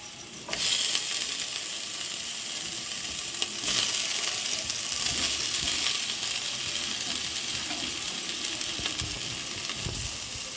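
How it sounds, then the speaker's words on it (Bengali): Soybean chunks and potatoes go into hot oil in a pan and fry with a loud, steady sizzle after a sharp onset, continuing evenly, close and alone without talk. "এগুলো আমি খুব ভালো করে ভেজে নিচ্ছি। এবার আমি সেদ্ধ করে রাখা সয়াবিন এবং আলু দিয়ে দিচ্ছি।"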